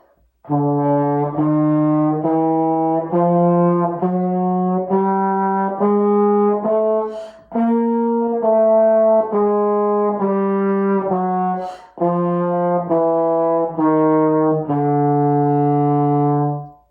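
A solo trombone plays a slow chromatic exercise of held notes stepping down and back up, in three long phrases separated by brief pauses for breath.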